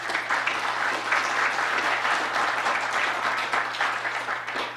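An audience at an orthopaedics and sports medicine lecture applauds steadily, dense continuous clapping from many hands filling the room at an even level.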